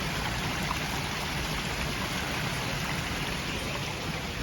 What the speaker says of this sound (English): This is a wall of water. Fountains, little fountains coming out.